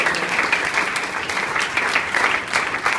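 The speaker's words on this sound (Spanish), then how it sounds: "Un aplauso fuerte para el Señor Jesús en este momento." A church congregation applauds loudly during a Spanish-language sermon: dense, steady clapping that fills the space for the whole stretch, with no voices over it.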